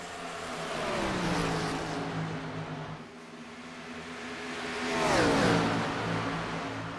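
Race car engines at the Auto Club circuit roar past one after another, each swelling in pitch as it approaches and dropping away, with a second car surging close around the midpoint over a continuous distant engine drone.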